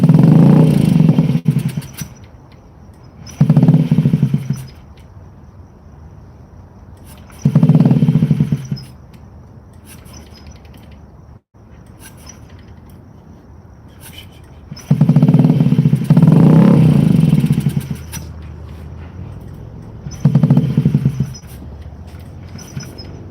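A Honda Ruckus scooter engine that is struggling for fuel runs loudly and unevenly, surging in repeated bursts and then dropping back to a rough idle.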